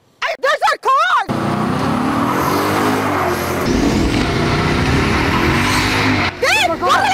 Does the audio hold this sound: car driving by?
yes